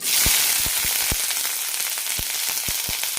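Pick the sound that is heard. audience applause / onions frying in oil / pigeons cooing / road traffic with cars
onions frying in oil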